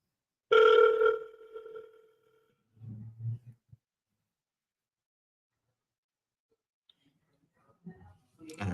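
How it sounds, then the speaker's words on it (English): A single telephone ring or dial tone sounds alone and fairly loud for about a second, then fades to silence, followed by a few faint clicks and brief low murmurs, with no one picking up. "So call twice, no answer, and then no voicemail"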